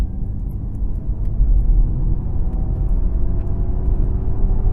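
A Ford Mustang Mach-E electric car in Untamed mode emits an artificial propulsion sound, a loud, low, continuous rumbling drone that swells slightly as it holds steady.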